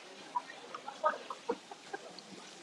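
Scattered soft clucks from chickens, a few short calls spread irregularly over a faint, quiet background.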